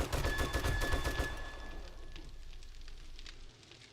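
Rapid bursts of automatic gunfire in 7 Days to Die, loud and close in the first second and a half, then thinning into scattered shots and fading echoes.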